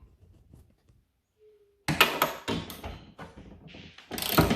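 A ratchet clicks in quick bursts while undoing 10 mm bolts on a car's electric window regulator, close and crisp metallic rattling after a quiet start.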